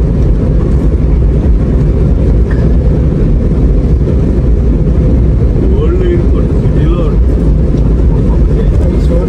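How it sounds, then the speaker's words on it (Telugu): Steady, loud broadband engine roar of large planes at Visakhapatnam airport fills the scene throughout, like aircraft idling or taxiing nearby on a wet apron at night, with faint voices underneath. "పెద్ద పెద్ద ఫ్లైట్స్ కూడా ఉన్నాయి ఇక్కడ"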